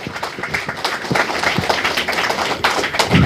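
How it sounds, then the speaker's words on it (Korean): An audience at a book launch event applauds in a dense, continuous patter of clapping. The crowd swells slightly toward the end, heard close, with no speech over it. "여러분들 박수 한 번 더 보내주시면 감사하겠습니다"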